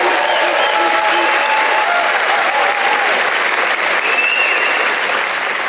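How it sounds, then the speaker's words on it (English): A rally crowd applauds law enforcement and veterans at a Trump campaign event in North Carolina: loud, dense, sustained clapping and crowd noise fill the whole stretch without letup, with faint speech mixed in. "Give them a round of applause, and for our veterans"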